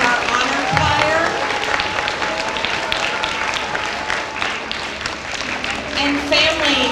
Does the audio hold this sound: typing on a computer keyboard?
no